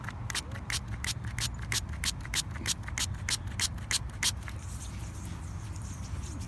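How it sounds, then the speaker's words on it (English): A spray bottle squirts water onto a dug-up coin in a rapid series of about fifteen sharp, hissing pumps, close and crisp, followed by a quieter rustle outdoors. "Go ahead, spray that, Doug, if you don't mind."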